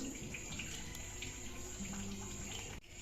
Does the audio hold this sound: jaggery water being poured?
yes